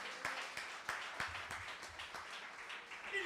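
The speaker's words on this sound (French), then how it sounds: "Est-ce qu'on peut applaudir le Seigneur?" A church congregation claps in a steady rhythmic beat, faint and distant, with soft voices mixed in.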